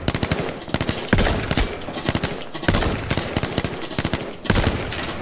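Rapid video game gunfire in H1Z1, loud machine-gun bursts in quick rhythmic volleys with short pauses between them, close and continuous over a few seconds.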